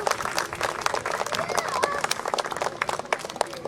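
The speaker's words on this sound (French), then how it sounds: "on peut tous les applaudir" A crowd at a community sports radio celebration in Brussels applauds, sustained dense clapping heard from nearby, with voices and some whistling mixed in.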